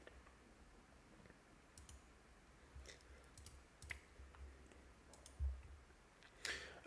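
A computer keyboard clicks with scattered, irregular keystrokes, quiet and fairly close in a lecture setting, with no talking.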